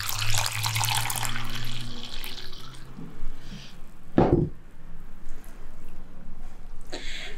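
Warm tap water pours into a bowl for dumpling dough, a rushing splash at first, then a short, sharp gush a few seconds later, with quieter kitchen handling sounds between.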